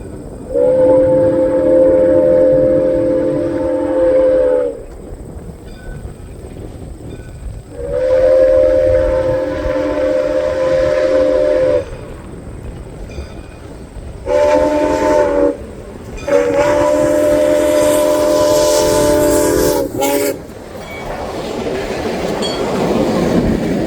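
Soo Line 1003 steam locomotive near Horicon, Wisconsin, sounding its whistle in several long blasts separated by short gaps, loud and close, over the rumble of the passing train.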